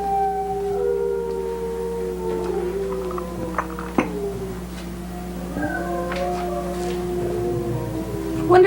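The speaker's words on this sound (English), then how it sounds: "Listen to those dogs howling." Several dogs howl in long, wavering, overlapping tones at a distance, with a few sharp knocks and faint background noise.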